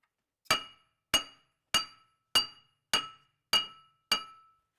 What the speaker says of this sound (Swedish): Så det är bara att hamra lös dem.